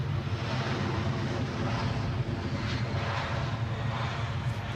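An airplane on final approach to Edinburgh airport sends a steady, distant engine roar with a low rumbling drone that holds evenly throughout, with no voices.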